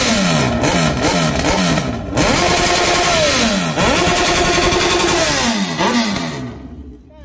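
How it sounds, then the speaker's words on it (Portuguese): A Honda Hornet motorcycle whose engine is knocking revs up repeatedly and loudly, close by, in rising and falling sweeps with short pauses between the bursts, then cuts off and fades near the end. "Só não liga não que o motor tá batendo"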